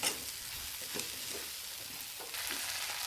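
Okra (bhindi) sizzling as it fries in an open pan, stirred steadily with soft scraping strokes, a continuous close crackle that grows slightly louder near the end, with no voices.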